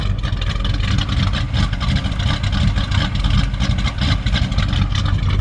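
A 1955 Chevrolet 3100 truck engine fitted with a small performance cam, idling with a loud, lumpy low rumble that pulses unevenly and continuously, close by with no talk.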